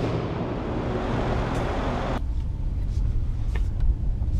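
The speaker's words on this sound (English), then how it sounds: "So let's drive the new S63 and see how this big tank feels on the road" A 2015 Mercedes-Benz S63 AMG 4Matic with a 5.5-litre twin-turbo V8 on the road, a steady low engine and road rumble throughout that thins out partway, with faint higher noises near the end.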